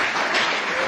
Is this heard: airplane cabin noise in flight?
no